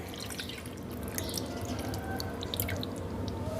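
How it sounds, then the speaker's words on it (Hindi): Water poured into a bowl of half a kilogram of chicken thighs marinating in vinegar, heard as steady close trickling and dripping for a few seconds without talk. "डाल देंगे हम इसमें पानी"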